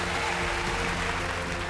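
Applause from a live television singing-contest audience, a dense, even wash of clapping sustained throughout the short stretch with some crowd murmur, fairly quiet overall.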